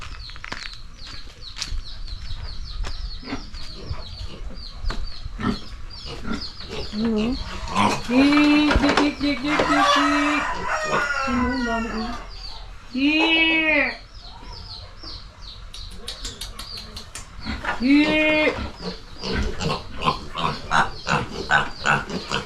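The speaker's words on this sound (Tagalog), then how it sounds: "Kita ko sa inyo guys yung baboy nila, oh, daming anak." Pigs and many piglets on a farm in Dupax, Nueva Vizcaya, grunting and squealing in a busy pen, with clucking chickens and a speaking voice mixed throughout the close, lively scene.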